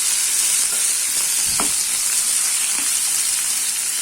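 Medium-sized tomatoes sautéing with garlic in a pan for a garlic tomato chutney, giving a loud, dense, unbroken sizzle close up with a faint stir midway.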